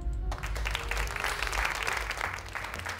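Dense crowd applause in the Cube Escape puzzle game fills the whole stretch, steady and loud clapping with no voices over it.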